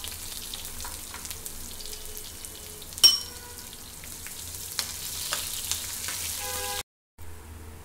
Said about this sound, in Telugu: ఆవాలు, జీలకర్ర, ఉల్లిపాయలండి బ్రౌన్ కలర్ వచ్చే వరకు ఫ్రై చేసుకుందాము